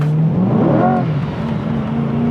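A Corvette Stingray engine in track mode revs up and settles into a steady, throaty idle hum, close and loud, with no talking.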